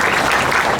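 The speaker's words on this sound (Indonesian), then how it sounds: "Tepuk tangan untuk Ketua" A short, loud burst of audience applause at a Muhammadiyah gathering, many hands clapping together in a dense, continuous patter.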